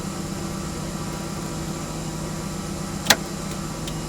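A car engine idles steadily at low volume after starting, with one brief sharp click or tick partway through and no voices.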